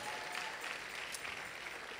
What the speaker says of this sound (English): I thought you would clap. Clap, oh.